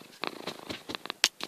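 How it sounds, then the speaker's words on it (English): A mother cat lies on a quilt, giving soft rhythmic purring broken by short breathy pulses, close and fairly quiet. "Mama cat, what are you doing? You're on my quilt."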